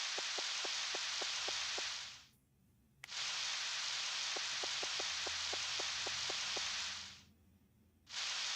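Rain falls in Palworld as a steady loud hiss, cut off twice by brief quiet gaps, with a series of light evenly spaced taps heard under it.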